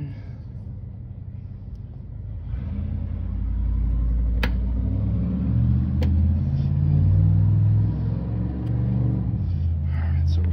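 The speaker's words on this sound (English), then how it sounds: "So we're gonna go ahead and run it, breaking the cam 10 minutes from 1500 to 1800 RPM" A 1400 HP Cummins diesel engine on a cam break-in runs steadily, with a deep, constant rumble that swells slightly partway through, close and loud, and a few faint clicks on top.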